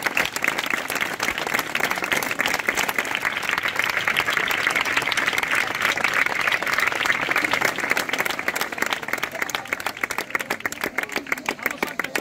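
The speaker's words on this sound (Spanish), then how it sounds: "Le damos un fuerte aplauso al Señor." Church congregation applauding loudly at a baptism service in Moratalaz, Madrid, a dense, steady wash of clapping sustained throughout with faint voices mixed in.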